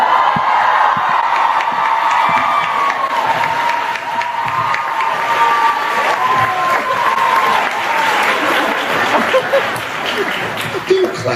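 An audience applauds steadily and loudly, with scattered whoops and some laughter mixed into the clapping throughout.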